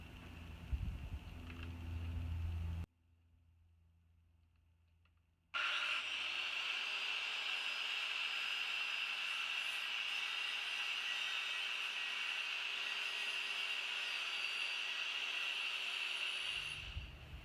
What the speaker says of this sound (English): we're going to cut the lattice into 6 different sections